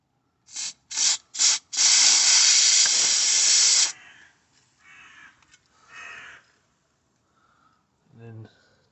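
Aerosol can of white lithium grease sprayed onto a car suspension rubber bush: three short hissing bursts, then one long steady spray, followed by quieter fumbling sounds and a brief voice at the end.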